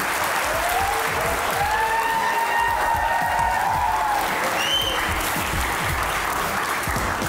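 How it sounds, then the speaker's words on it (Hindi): Studio audience applauding on a Pakistani TV talk show as guests Atta Tarar and Rehman Faris walk on: steady, dense clapping that fills the whole stretch at even loudness, with a few whistles and cheers rising above it. "तालियां बजती रहनी चाहिए।"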